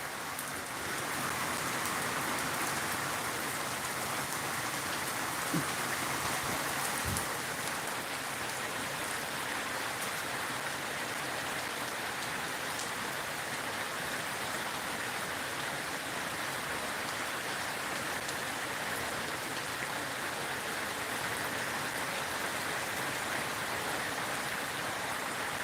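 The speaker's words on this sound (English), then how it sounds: "the rain feels like it's louder than me" Steady rain falls outside, a constant dense hiss that fills the whole stretch evenly and loudly, with no voices over it.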